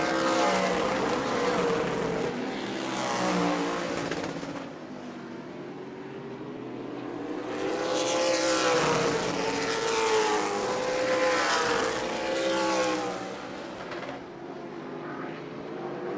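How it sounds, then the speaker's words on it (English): Race cars in a Sunbelt Series event at New Smyrna Speedway roar past, engine notes rising and falling with Doppler sweeps as the pack comes off a corner, loud and sustained with a brief lull midway. "Bobby Good comes off the corner, 10 laps complete"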